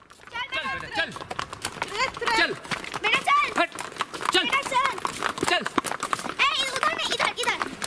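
Horses walk a mountain trail in Kashmir, their hooves clopping steadily and irregularly while people talk throughout, with birds chirping in the background.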